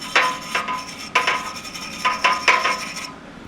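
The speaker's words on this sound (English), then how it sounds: "just give a little grind out in there, a little more space to flow" A rotary tool grinds out the inside of an aluminum coolant pipe bend on a supercharged V8 box truck, its ringing, whining scrape coming in short repeated passes of about half a second each, close and fairly loud.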